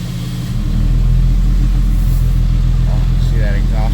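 A 2008 Ram pickup's 6.7L Cummins diesel rumbles steadily up close, its tone thickening after a brief moment as the exhaust brake disengages, with faint chirping sounds near the end.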